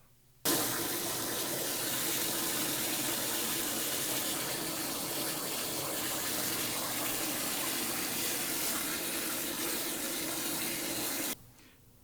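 Water gushes steadily into a pannier bag holding a down sleeping bag in a compression bag, a loud continuous rushing pour that starts abruptly, runs unbroken for about eleven seconds, then cuts off.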